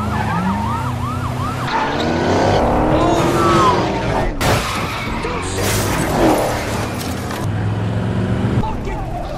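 A robbers' getaway car chased by pursuers and ending in a crash, with wailing sirens sweeping up and down over roaring engines and a couple of sharp impact bangs midway.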